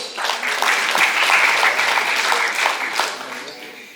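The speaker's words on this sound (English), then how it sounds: "Please give him a big round of applause." A steady wash of audience applause at a book launch, many hands clapping at once, sustained for several seconds before slowly thinning out.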